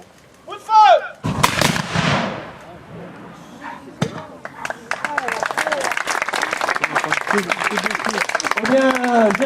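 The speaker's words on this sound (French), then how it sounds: "Tire la poudre noire, on se bouche les oreilles, on respire plus. Coup de feu." A black powder gun fires with a sharp, loud blast at a medieval festival at a château, followed by applause and cheering that continues steadily; a brief whistle-like tone comes just before.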